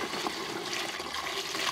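Melt water collected from a roof is poured out in a continuous rushing, splashing stream, steady and fairly close, with no talking.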